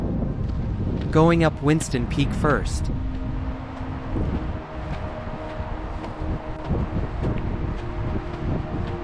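Wind gusting across the microphone on a cool mountain ridge trail in the San Gabriel Mountains, a steady low rumble throughout, with a person speaking briefly near the start.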